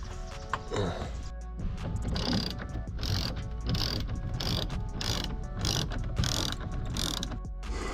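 A ratchet backs out the splash guard screws on a Hellcat Challenger in a garage, its clicking pawl ticking in quick repeated bursts over steady background noise, close by and fairly loud.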